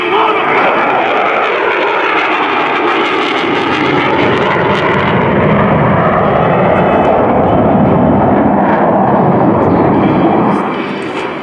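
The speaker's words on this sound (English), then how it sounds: "Purple and Hot Gun are now setting up for a carrier break." An F/A-18F Super Hornet jet flying a carrier break at an airshow, a loud sustained roar that sweeps in pitch as it passes, filling the whole stretch before easing slightly at the end.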